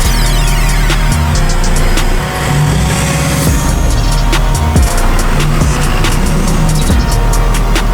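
A lifted 2024 Ford F-250 with a 12-inch lift pulling out for a test drive, its engine a loud, steady rumble up close with tire and road noise throughout.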